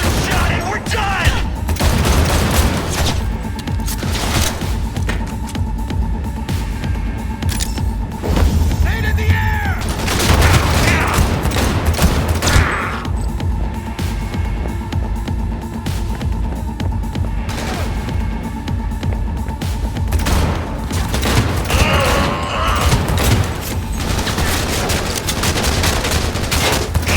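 Sustained bursts of automatic gunfire in Cyberpunk 2077 play loud and dense throughout, with heavy booms and crashes layered under game music and occasional voices.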